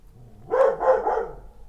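A dog gives a short double bark, fairly close and moderately loud against near silence, over in under a second.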